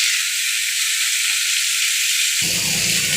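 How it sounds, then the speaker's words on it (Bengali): Hot oil already seasoned with dried chilli, nigella seeds and bay leaf hisses in a steady, bright sizzle, then a deeper, louder frying roar bursts in as potatoes and papaya drop into the pan near the end. "ওই তেলেতেই আমি আলুটার পেঁপেটা দিয়ে দেবো"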